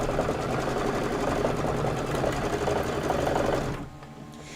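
An embroidery machine stitches a placement line on fabric, a steady rapid mechanical whirr with a fine repeating needle pulse, close and continuous, stopping abruptly near the end.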